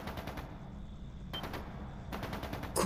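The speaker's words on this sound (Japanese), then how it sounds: "まさか銃声なのか" Machine gun fire in the video game The Legend of Heroes: Trails into Reverie, three loud sustained bursts of rapid automatic shots separated by short pauses, with no talking.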